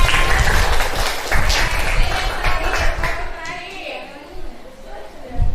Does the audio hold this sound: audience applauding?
yes